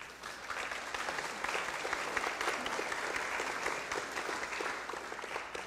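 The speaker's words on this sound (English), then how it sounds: "Let's go ahead and give them a round of applause." Steady applause from a seated audience at a city council meeting honors graduates of a political academy, a moderate crowd clapping evenly for several seconds without voices.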